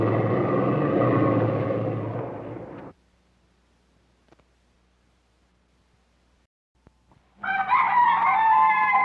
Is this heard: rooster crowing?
yes